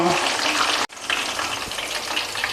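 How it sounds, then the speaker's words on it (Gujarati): Cauliflower pieces deep-frying in hot oil for Kathiyawadi undhiyu give a steady, close, dense sizzle that cuts out for a split second, then carries on evenly. "આપણું આ ફુલાવર છે તે એકદમ સારું એવું તળાઈ ગયું છે"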